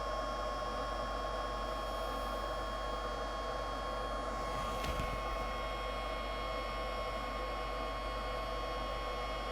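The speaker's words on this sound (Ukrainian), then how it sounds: "вентилятор практично взлітає. Працює досить голосно" A Chinese power inverter's cooling fan whirs steadily and loudly, a constant mechanical hum with high whine, running without pause and no voices.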